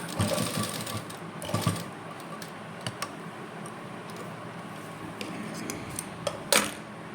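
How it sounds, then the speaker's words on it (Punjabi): A sewing machine stitches lace onto a kameez, giving a steady, close mechanical whir broken by irregular sharp clicks and short bursts of stitching. "ਲੇਸ ਨੂੰ ਆਪਾਂ ਬਾਹਰਲੀ ਸਾਈਡ ਕਰਕੇ ਸਿਲਾਈ ਆਪਾਂ ਬਿਲਕੁਲ ਨਾਲ ਦੀ ਨਾਲ"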